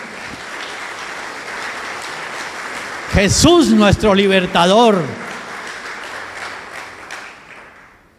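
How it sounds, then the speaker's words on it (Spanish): A church congregation applauds with a steady wash of clapping, while a voice speaks loudly over it through the middle before the clapping fades out. "Démosle un aplauso a Dios."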